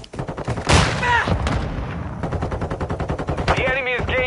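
Rapid automatic gunfire from Call of Duty Warzone 2.0 crackles in fast bursts and single shots, close and loud, with a player's voice briefly heard amid the shooting.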